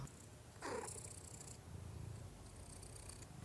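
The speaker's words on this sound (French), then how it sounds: "J'ai mon chat sur les genoux." A cat lies on a person's lap and purrs in a soft, low, continuous rumble, faint and close, with a brief rustle of movement partway through.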